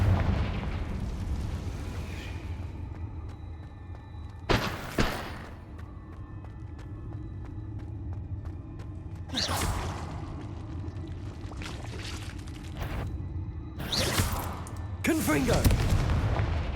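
Confringo fire spells go off in the Hogwarts Legacy video game as five or six loud, sharp blasts, spaced a few seconds apart over a constant background rumble.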